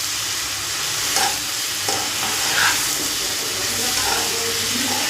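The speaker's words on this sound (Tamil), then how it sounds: "கருவாடு செம்மீன் கருவாடை போட்டுட்டு நல்லா வதக்குறேன் பாருங்கள்" Onions with prawns and dried shrimp sauté in a pan, with a loud, close sizzle and repeated scraping stirs across the whole stretch.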